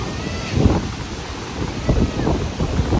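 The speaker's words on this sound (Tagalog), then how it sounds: "Lakas ng hangin, oy." Strong wind buffets the microphone in heavy, uneven gusts, rumbling low and loud throughout, with a faint voice partly buried beneath it.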